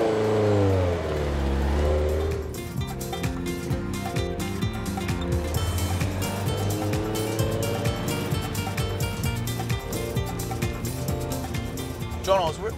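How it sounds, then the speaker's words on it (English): A Ferrari engine runs and revs steadily, with a rising, sustained tone that carries across the whole stretch under music, loud and close. "the heart of the Ferrari, the engine, which possesses the famous aggressive tune which penetrates every inch of your body"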